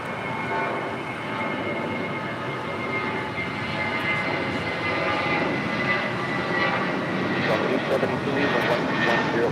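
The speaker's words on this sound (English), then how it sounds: "Say Delta 767 coming in from JFK," A Delta Boeing 767, flight 482 in from JFK, arrives at LAX with a sustained, fairly loud jet engine roar and whine holding steady throughout, while a person talks over it.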